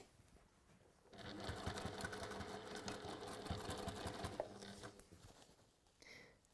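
A sewing machine runs steadily for about four seconds as it stitches matched top and bottom seams on textile, starting abruptly and stopping, followed by a brief faint rustle.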